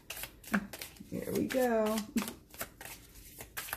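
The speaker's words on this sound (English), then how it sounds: "y'all know me in the shuffling" A newly unboxed, locally made tarot deck is shuffled by hand, giving soft, rapid papery riffles and flicks in short bursts, close by, while someone talks over them.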